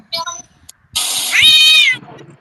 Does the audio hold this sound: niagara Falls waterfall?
no